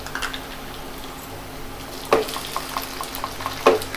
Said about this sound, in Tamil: வெங்காயம் நல்லா வதங்கிருச்சு, தக்காளி ஆட் பண்ணிக்கலாம்.